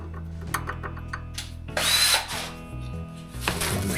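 A power drill drives a number 6 screw into pre-threaded holes while assembling speaker crossovers, the motor whirring in short bursts before a louder, straining burst as the screw tightens down.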